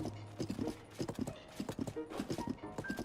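Horse hooves clip-clopping steadily while riding in a Zelda video game, a rhythmic close trot continuing under background music.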